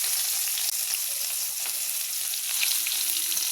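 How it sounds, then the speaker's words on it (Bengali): Whole cumin, bay leaf, whole garam masala and onion hit hot oil left from frying fish, producing a bright, steady, close sizzle throughout. "এবারে ওই তেলের মধ্যেই গোটা জিরে, তেজপাতা, গোটা গরম মশলা, পেঁয়াজ দিয়ে দিচ্ছি।"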